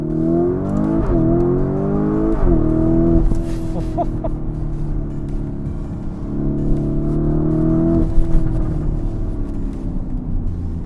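A Lamborghini Urus S twin-turbo V8 SUV in sport mode revs repeatedly, rising and falling in pitch with loud throaty bursts, a steady rumble in between, close up.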